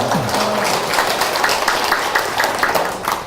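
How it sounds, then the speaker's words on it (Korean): A crowd at a Korean business presentation applauding, a sustained patter of clapping hands at moderate volume throughout. "박수 한번 할까요?"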